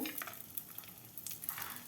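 Moong dal and cashews fry in a little oil and ghee, giving a faint, steady crackling sizzle with light stirring.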